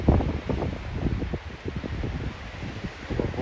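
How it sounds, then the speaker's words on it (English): Strong wind on the Arizona Trail buffets the microphone in constant low rumbling gusts, with rustling bursts rising and falling throughout, loud and close. "Oh boy, is it windy."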